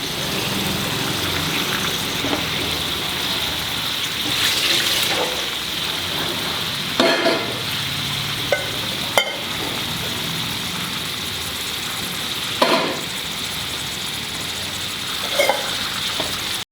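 Flat beans roasting in a teaspoon of coconut oil over a medium flame, a steady close sizzle and hiss throughout with occasional scraping bursts as the pieces are turned.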